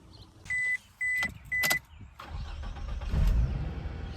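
A 2005 Scion tC with a newly installed starter: three short electronic chimes, then the engine cranks briefly and catches into a low, steady idle nearby. No one talks.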